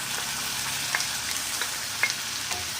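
Tomato puree sautéing with onions in a pan for an okra and onion masala, a steady close sizzle and hiss with a few soft stirring clicks.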